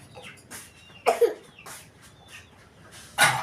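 A few short, harsh coughs break through a noisy background, with one pair close together and another burst near the end.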